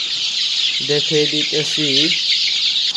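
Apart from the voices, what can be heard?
desi chickens clucking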